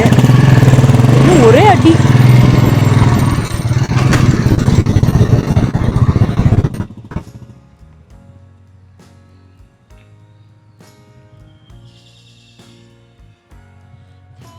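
A Royal Enfield Bullet motorcycle thumps loudly up close as it rides off, its engine note fading away after several seconds, with a voice speaking over the start.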